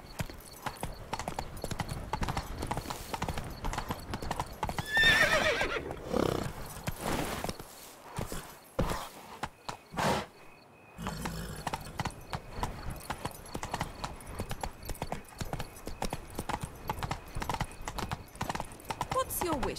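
Geralt's horse Roach gallops in The Witcher 3, steady hoofbeats clip-clopping close and loud for most of the stretch, with a whinny near the middle, a brief lull around ten seconds, and a voice speaking at points over the hooves.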